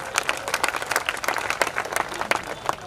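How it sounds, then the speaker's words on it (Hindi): Crowd at a political rally in Gaura Bazar, Varanasi claps loudly to welcome a party official, with dense, steady applause and sharp individual claps throughout. "जोरदार ताली बजाकर उनका स्वागत करिए"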